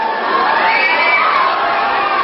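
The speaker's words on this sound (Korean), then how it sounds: "주축 선수들의 등장에 큰 환호성이 울려 퍼졌습니다" A dense crowd in an airport arrival hall roars and cheers without a break as Korea's national football team, led by coach Stielike and captain Ki Sung-yueng, walks out. The cheering is loud, with high shouts mixed into the steady crowd noise.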